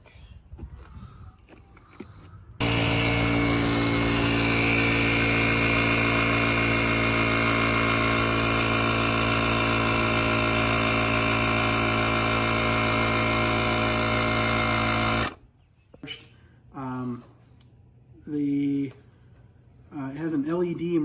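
A car engine is force-started with a Green Keeper GK-J1206P jump starter on a fully discharged battery. It runs loud and steady for about thirteen seconds, then cuts off, followed by a few faint knocks and short tones.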